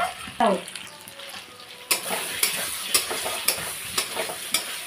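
Masala for a prawn curry sautés in oil, a low sizzle under regular spatula scrapes against the pan, roughly one stroke every half second after a brief pause.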